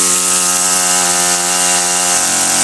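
A small two-stroke engine on an LT26 line trimmer running loud and steady, with a buzzing whine that dips slightly near the end, no talking.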